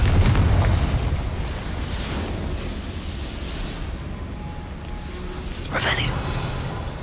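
A Confringo fire spell from Hogwarts Legacy blasts in a dull rumbling boom, with a sharp burst near the end over steady game ambience and a faint spoken incantation.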